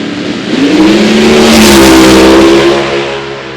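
Nitro funny car launching down a drag strip at Eddyville Raceway Park, a loud, sustained roaring blast that swells to a peak and then fades slightly as the car pulls away.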